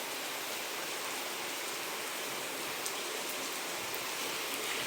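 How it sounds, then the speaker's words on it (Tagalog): Heavy rain pours down in a steady, dense hiss, unbroken and fairly loud throughout, with no voices. "Ang lakas ng ulan."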